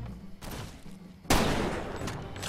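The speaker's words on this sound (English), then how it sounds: "That's how you shoot a rifle." Rifle gunfire in the video game Far Cry 2: a faint shot early on, then a loud sudden burst of gunfire that rings out and trails into continued firing.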